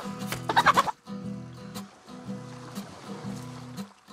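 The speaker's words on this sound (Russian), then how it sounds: "Подкрадемся к курице. Ее все-таки надо поймать." Chicken clucking in the survival video game DayZ Standalone, a burst of loud, nasal clucks up front followed by softer, repeated low clucking calls spaced across the next few seconds.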